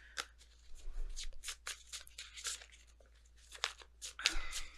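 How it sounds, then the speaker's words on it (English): Tarot cards are shuffled by hand in a series of quick, crisp riffles and flicks that come in irregular bursts, close and fairly quiet. "If I could get the shuffling part down."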